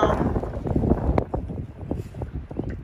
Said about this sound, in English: It's windy as heck, so pardon the wind.